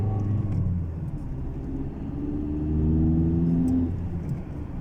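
A car pulls away from a stop on a steep downhill road during a driving test, its engine note rising through gears as a steady rumble and whir fill the cabin, with no talk.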